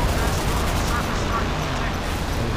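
Sustained, dense naval gunfire from the warship combat game Modern Warships, a loud continuous rattle of rapid shots with no clear gaps, layered over a busy battle background.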